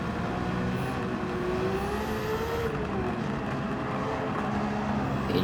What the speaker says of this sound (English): Just drifting around here. Power sliding even.